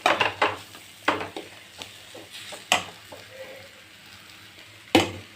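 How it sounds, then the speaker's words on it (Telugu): Spices being tempered in two tablespoons of hot oil in a pan for tamarind rasam, with short sizzling bursts, spoon-on-pan clinks and stirring scrapes spaced irregularly, close and fairly loud. "ఇప్పుడు తాలింపు పెట్టాను"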